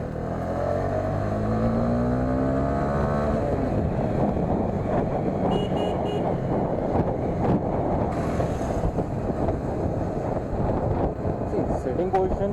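A Honda CB300F motorcycle accelerates on the road, its engine drone steady under heavy wind rush throughout, with a rider talking over it.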